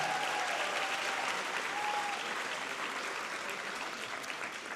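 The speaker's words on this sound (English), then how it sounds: "Let's give these students a huge round of applause" A large graduation ceremony crowd claps steadily, a dense wash of applause that fades slightly toward the end, heard from some distance.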